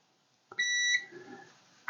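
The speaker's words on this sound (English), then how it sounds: "let me check the continuity on that fuse here" A multimeter gives a single short electronic continuity beep while probing a Commodore 64 fuse, a clean tone lasting under half a second after a faint click, in an otherwise quiet room.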